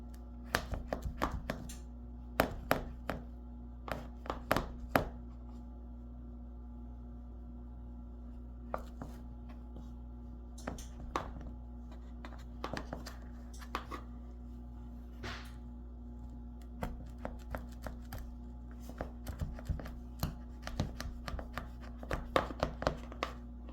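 Knife cutting through layered baklava in a pan, producing a series of sharp crisp taps and crunches in irregular bursts over a steady low hum, close and fairly quiet.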